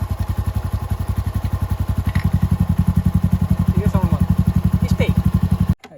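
A modified, fully loaded Honda Dio scooter with an aftermarket exhaust idles close by, giving a loud, rapid, evenly pulsing putter that cuts off abruptly at the end, with faint voices in the background.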